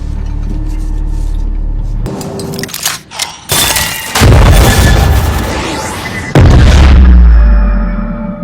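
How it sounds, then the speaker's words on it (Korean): A huge explosion of a Brecken crystal in the animated series Arcane tears through a hideout: deep booms and heavy thuds build into a massive roaring blast, then a second loud crash follows, all very loud and near. "거대한 폭발과 함께 실코의 아지트를 산산조각 내기 시작한 브레컨 수정"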